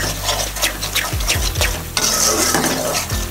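A spoon scrapes and stirs lima beans and shrimp curry in a cooking pan, with repeated close, clattering strokes against the metal over a soft background sizzle.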